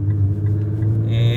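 A modified Nissan GT-R's engine rumbles low and steady as it accelerates and loses traction, the note building toward the end with a brighter rising edge.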